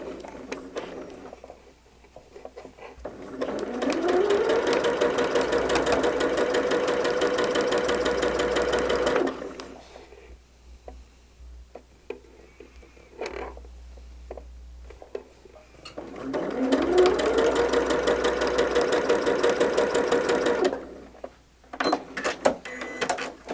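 A sewing machine stitches a quilt block seam in two long, steady runs, each about five seconds, with a rapid even hum and chatter. Quieter handling noises fill the pauses between runs.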